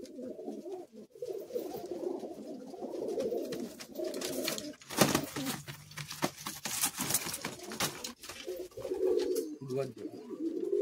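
Madrasi high flying pigeons coo steadily in a loft, soft low rolling calls layered close together, with a burst of handling or flapping noise midway before the cooing resumes.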